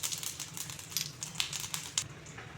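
Whole cumin seeds tossed into hot white oil in a kadai, giving a quiet, irregular crackle of small sharp pops, with no voices.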